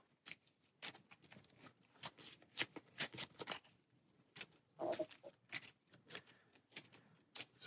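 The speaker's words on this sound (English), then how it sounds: "And shuffle our turn order deck for our next round." Cards from the turn order deck of the Aeon's End board game are shuffled by hand in repeated crisp riffling bursts and taps, close and quiet with short pauses between them.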